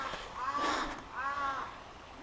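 Two harsh, crow-like caws from birds on Mt. Moiwa in snowy mountain woods near Sapporo, Japan, each drawn out and moderately distant, set against a quiet outdoor hush.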